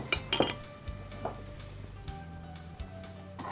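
Bowl handled while serving cooked mussels, with several light clinks and knocks of dishware close by, brief taps clustered early and scattered sparser through the rest over a quiet background.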